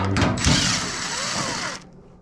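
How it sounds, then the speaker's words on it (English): Power screwdriver backing screws out of a Maytag Maxima S dryer's panel, a close, loud motor whine lasting about a second and a half after a few clunks, then cutting off abruptly into quiet. "I'm gonna pull out screws."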